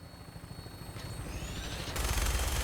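A helicopter flies in the Fallout 4 video game with a low, fluttering rotor drone, faint at first and then louder for the final half second.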